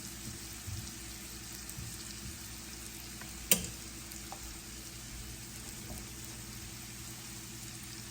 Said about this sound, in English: hopefully it doesn't take long to cook this mushrooms